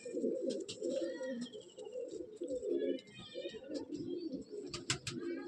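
Several Madrasi pigeons coo continuously in a breeding loft, their low throaty calls overlapping close by, with a few faint chirps above.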